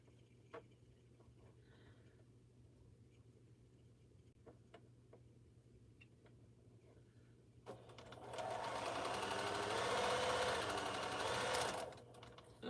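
A sewing machine stitches quilt fabric in a fast, loud, steady run of about four seconds, preceded by quiet room tone with a few soft clicks and taps before the motor starts and then stops.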